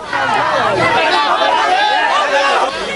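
A dense crowd of protesters with placards shouts anti-Kejriwal slogans while police try to control them, a loud close mass of overlapping voices.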